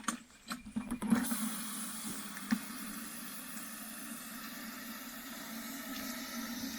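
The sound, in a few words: swishing water to dissolve sea salt in a jug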